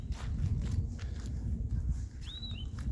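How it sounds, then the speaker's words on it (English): Footsteps squelch through mud along a canal, a steady soft trudging rhythm close to the microphone, with a brief bird chirp near the end. "I just hear the sound of my own footsteps squelching in the mud as I walk down the canal."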